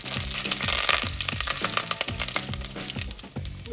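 Mustard seeds, fenugreek seeds, curry leaves and dried red chili sizzling in cooking oil, a close, crackly fry with sharp pops over soft background music.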